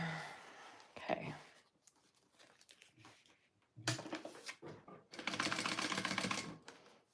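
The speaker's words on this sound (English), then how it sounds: "I'm top stitching down each side" A sewing machine top stitching down each side of a crossbody strap connector piece for a tote bag runs in short rattling bursts, a brief one early, then two longer runs near the end, with quiet pauses between.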